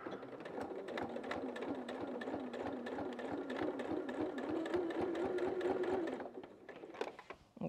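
A sewing machine stitches a self-binding quilted table runner in a fast, even run of needle ticks over a low motor hum for about six seconds, then slows and stops with a few clunks.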